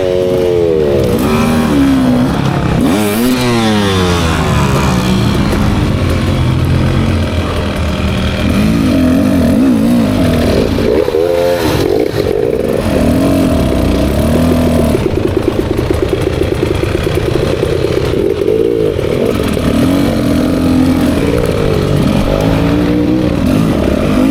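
A 2024 Beta 300 RR Race Edition two-stroke dirt bike pulls up a steep hill at low revs with no clutch. The engine is loud and close, a continuous throaty drone whose pitch rises and falls as it lugs and picks up.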